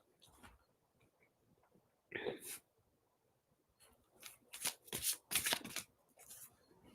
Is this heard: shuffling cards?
yes